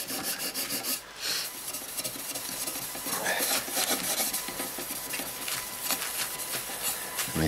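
Corrosion is rubbed off an aluminium Kirby Heritage vacuum with polish, a close, continuous rasping scrub in rapid back-and-forth strokes, briefly pausing and then resuming with more vigour.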